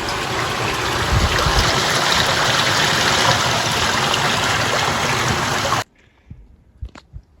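Water gushes steadily out of a drain at a disused railway tunnel, a loud, close, rushing flow that stops abruptly near the end, leaving a few faint knocks.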